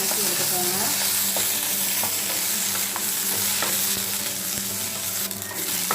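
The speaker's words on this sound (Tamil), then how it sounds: "வெங்காயத்தை சேர்த்து நல்லா இதையும் நல்லா வதக்கி எடுத்துக்கோங்க" Onions sautéing in hot oil in a kadai, a steady close sizzle with repeated scraping stirs of a spoon throughout, no talking.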